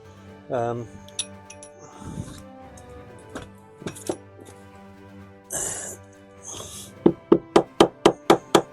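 A drill bit strikes a metal seat mounting rail inside a bus being converted to a camper, giving scattered knocks and clinks. A closing run of sharp, evenly spaced metallic hits rings out near the mic.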